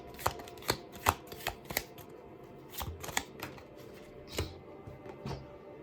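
A deck of advice cards is shuffled by hand during a card reading, making a quiet, uneven run of crisp riffles and slaps over about six seconds, with no talking.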